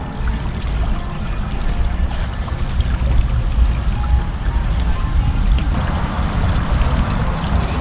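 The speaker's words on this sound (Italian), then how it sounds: "dobbiamo tirare su tutto il tubo in modo da far uscire l'acqua dentro la piscina" Water pouring and trickling out of a raised pool vacuum hose back into an outdoor swimming pool at a farm-stay, a steady close splashing gush with no talk.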